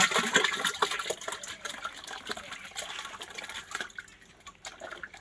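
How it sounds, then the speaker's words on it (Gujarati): Cow dung is stirred and dissolved into water in a container while making jeevamrut for organic farming, giving a continuous close sloshing and splashing that fades slightly toward the end. "આ 10 કિલો ગાયનું ગોબર આપણે નાખ્યું અંદર।"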